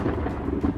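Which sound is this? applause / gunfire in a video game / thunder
thunder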